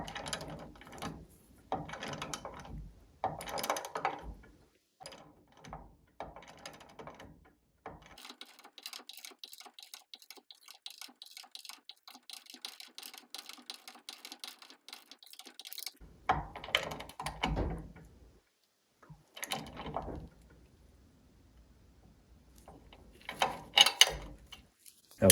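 Ratchet and socket turning a nut on a Mercruiser bell housing shift shaft bushing job, giving a run of fast, light clicking over several seconds, with scattered handling clatter before and after.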